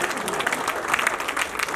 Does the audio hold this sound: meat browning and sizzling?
no